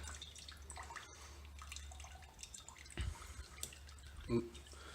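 Oil draining off fried potatoes for a Spanish omelette, a faint steady trickle with a few soft drips and light clinks, quiet and close.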